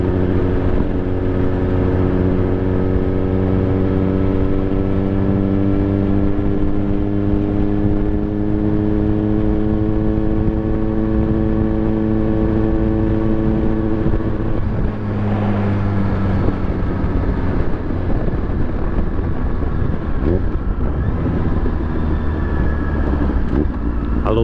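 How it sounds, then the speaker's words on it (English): A motorbike engine drones steadily and loudly throughout a ride, its tone rising and shifting in pitch as the revs change, with road and wind noise underneath. "I love the sound of this bike as well"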